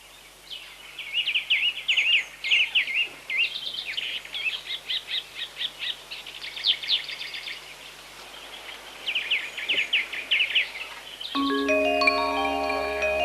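Birds calling in a tropical rainforest near Territory Wildlife Park, bursts of bright, rapid chirping and trilling song repeating close by, then joined by a musical tone near the end.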